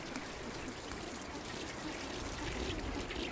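Rockhopper penguins splash in a freshwater stream running near their colony, producing faint, continuous trickling and pouring water sounds with no voices.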